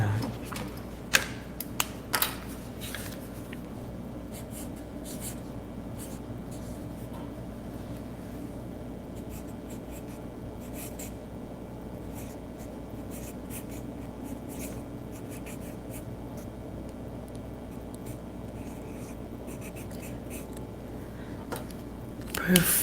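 A pen writing a word on paper, a soft continuous scratching in a quiet room with faint background noise and a few small knocks near the start.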